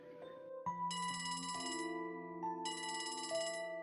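A phone rings in the video game Trails from Zero, giving bright electronic chimes over a looping game soundtrack: two bursts of ringing, each about a second long, that come through clearly with no talk.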